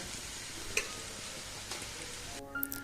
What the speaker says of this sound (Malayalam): സവാള ഇട്ട് നന്നായിട്ട് ഇളക്കി കൊടുക്കാം.